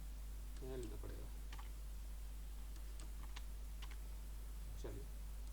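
Scattered clicks of a faulty computer keyboard being typed on, soft and sparse against a steady low hum, with brief bits of voice mixed in.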